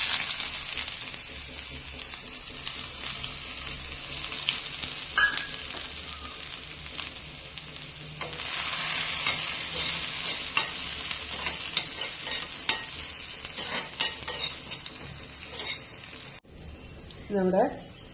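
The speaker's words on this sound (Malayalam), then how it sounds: "അതിലേക്ക് ഞാൻ കുറച്ച് ചെറിയ ഉള്ളിയും വറ്റൽമുളകുമാണ് ഇടുന്നത്." Shallots and dried red chillies sizzle and fry in a hot pan for a seasoning tempering, a steady crackling hiss close by with stirring clatter, briefly interrupted near the end.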